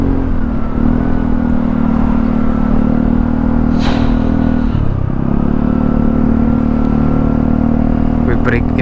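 An Aprilia SRGT200 scooter-style motorcycle climbs an uphill road, its engine droning steadily and loudly close by, with a brief dip in pitch midway before it settles back into the same strained hum.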